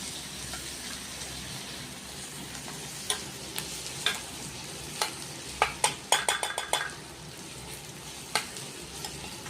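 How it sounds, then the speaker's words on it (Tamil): Crushed garlic sautés in a pan, a steady low sizzle punctuated by scattered sharp clinks and scrapes of a spoon stirring against the metal, growing busier midway. "பூண்டு போட்டு கொஞ்ச நேரம் வதங்கட்டும்."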